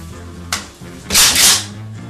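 Pump-action shotgun firing, two sharp close blasts, the second louder and longer with a brief ringing tail, no voices.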